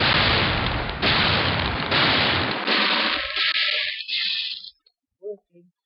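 Gunfire in a wheeled-vehicle demo built in the Unreal Development Kit game engine: a dense, loud run of rapid shots in about four long bursts that cut off abruptly, followed by a couple of brief faint blips.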